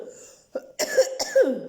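A couple of sharp, close coughs in quick succession after a brief quiet moment, harsh and throaty.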